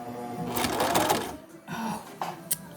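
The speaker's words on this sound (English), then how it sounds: "I'm gonna sew it right sides together" A sewing machine runs in quick bursts as it stitches fabric for a face mask, a close rapid mechanical whir that stops briefly and then restarts, ending in a couple of clicks.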